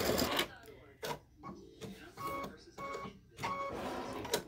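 Embroidery machine stitching a freestanding-lace teardrop snowflake earring design: rapid mechanical clattering and whirring in uneven bursts, close by, with a person speaking over it.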